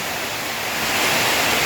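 Rainwater pours off the roof of a small shop during flooding, a steady loud rushing splash that swells slightly toward the end, with no voices over it.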